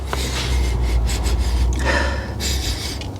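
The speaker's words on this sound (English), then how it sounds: "We're gonna sniff real quick." A person sniffs a few times in quick succession, close up, checking a car for flood smell, with a steady low hum of background noise underneath.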